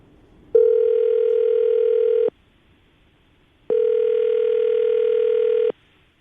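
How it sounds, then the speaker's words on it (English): Two long, steady telephone ringing tones, each lasting about two seconds with a pause between, loud and close with no voices. "Tim, we're going to call her right now, get her on the phone"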